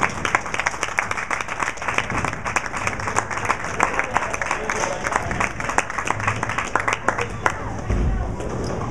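A crowd claps at a bowling event after the youngest champion's win, with dense, steady applause and some cheering filling the whole stretch, a voice faintly under it.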